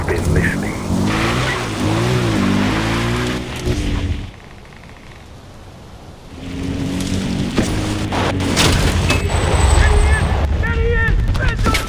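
Vehicle engine in the Far Cry 4 video game, loud and revving with rising pitch sweeps up close, cutting off briefly midway before the driving noise returns with clanks, impacts and game effects; voices shout over it.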